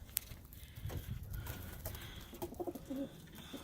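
Pigeons in a loft with a nest box and settling cage give soft, low coos among scattered rustling, wing flutters and light knocks, faint and close.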